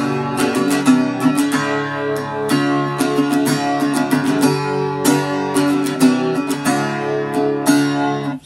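A small travel guitar plays through its built-in amplifier with a chorus effect, loud and shimmering, as repeated strums and picked notes run steadily for several seconds with no talking.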